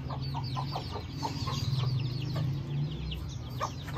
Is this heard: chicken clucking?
yes